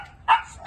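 A puppy gives a few short yips and barks, close and fairly loud, at a home-bred dog stall in the Bocaue, Bulacan pet market.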